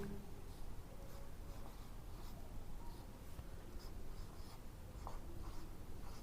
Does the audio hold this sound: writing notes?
yes